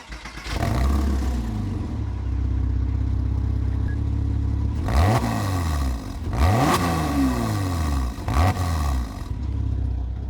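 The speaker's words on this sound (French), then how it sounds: "Ça fait vraiment le bruit pur de la Porsche." A Porsche Boxster flat-six engine starts and idles with a deep, rumbling exhaust note, then revs sharply three times, each blip rising and falling, loud and close.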